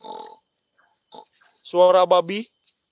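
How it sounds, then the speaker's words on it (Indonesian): A few short grunting oinks of a pig in the video game GTA San Andreas, game-like and abrupt, between brief bits of a person talking. "Ada suara babi"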